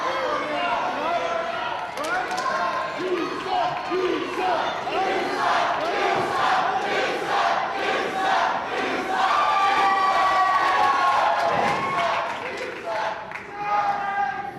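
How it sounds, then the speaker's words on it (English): Wrestling crowd jeering and shouting at Dinn-T Moore during a professional wrestling show, a dense, loud, continuous roar of voices with rising yells throughout. "Crowd getting on to Dinn-T Moore."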